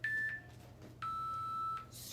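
A workout interval timer gives two clean electronic beeps, a short one and then a longer held tone, clear but moderately quiet against a low background hum.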